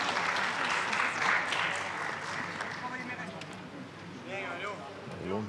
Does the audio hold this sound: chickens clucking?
no